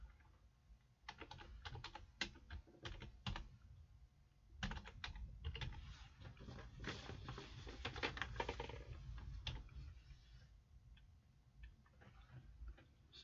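Typing on a computer keyboard at close range, bursts of rapid clicking keystrokes with short pauses, fairly quiet and with no speech.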